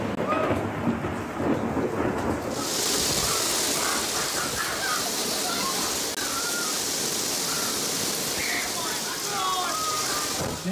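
A thunderstorm with heavy rain and hail over Sydney roars as a dense, continuous wash of downpour, loud and steady throughout, with a deep rumbling undertone and the hiss swelling sharply after a few seconds.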